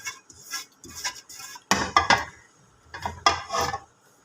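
Salt being mixed into beef in a pot for Dum Pukht: a spoon scrapes and clanks against the metal pot in irregular strokes, with a few sharper knocks, close and moderately loud.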